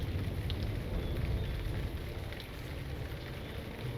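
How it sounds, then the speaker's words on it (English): Steady rain falls in the video game Lord of the Rings Online, a continuous broadband wash with a low rumble beneath, even and unbroken for the whole stretch with no voices. "Ah, the rain."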